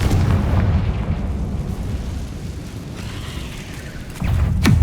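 A fiery Confringo blast spell in Hogwarts Legacy lands with a heavy rumbling boom, a low roar that lingers and swells again into a second burst near the end.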